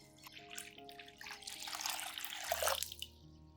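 Clean room-temperature water, about 500 milliliters, poured to dilute a red onion plant solution, a steady close splashing trickle that builds and swells toward the end, with no talking.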